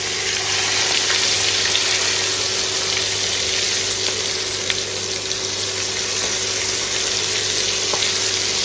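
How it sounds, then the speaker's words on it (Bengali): Fish frying in a pan on a home stove, a steady, even hiss of sizzling oil that holds at the same level throughout with no voices. "তরকারিটা বসানো আগে আগে মাছগুলো ভেজে নিচ্ছি।"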